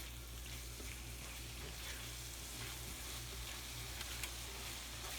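Ground beef sizzling steadily in a hot pan while flour is stirred through it, a continuous soft crackle and hiss with faint scraping, close and even throughout.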